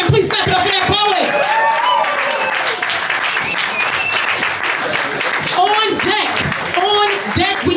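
Loud, dense applause and cheering from a poetry slam audience fill the room for a poet, steady throughout with scattered whoops and voices mixed in.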